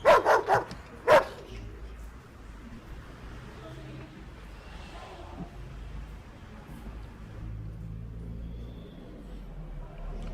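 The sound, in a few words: black and white dog barking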